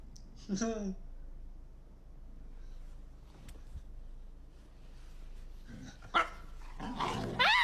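A dog barks and growls in short bursts, close and fairly loud, with people talking in between.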